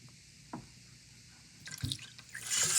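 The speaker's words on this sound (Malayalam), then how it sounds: "കുറച്ച് തണുപ്പിച്ച് വെച്ച പാലാണ് ഞാൻ ഒഴിക്കുന്നത്" Chilled milk is poured into juice with chia seeds: a few faint drips come first, then a soft liquid splash, and a quiet, rising stream of pouring closes out the short moment.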